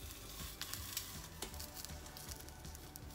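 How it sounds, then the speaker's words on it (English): Potatoes sizzle and char in a pan, a faint steady frying hiss broken by small crackles and soft scraping as the pieces are turned. "keep turning them to get the skins crispy and kind of charred"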